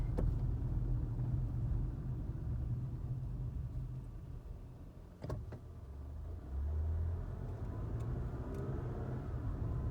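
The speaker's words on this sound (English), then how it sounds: "I hate how this car accelerates." A car is being driven along a residential street, heard from inside as a steady low engine rumble and road noise that swells again as it accelerates partway through, with no talking.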